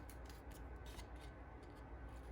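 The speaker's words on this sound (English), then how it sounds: "So now I'm moving my scissors," Scissors snip through paper while fussy cutting a flower motif, a faint run of quick, irregular cuts close by, with no one talking.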